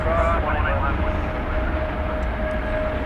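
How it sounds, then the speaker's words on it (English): A small Martin Air plane from Tyler passing at night at DFW Airport, a steady broad engine drone with a faint whine, continuous for a few seconds. "You're about to see a small plane go through the shot there, I think. There it goes."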